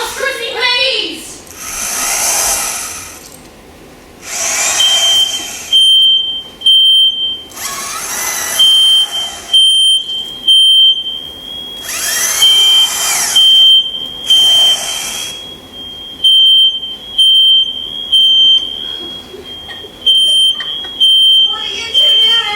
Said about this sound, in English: No, but we do have a smoke alarm in the kitchen.